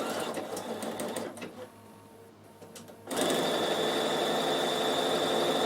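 A Bernina sewing machine with a jewel feed foot sews a 5/8-inch trouser pocket seam. A few brief stitch bursts and a pause come first, then a loud, steady, close run of stitching hums on alone.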